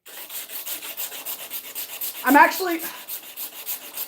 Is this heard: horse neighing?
no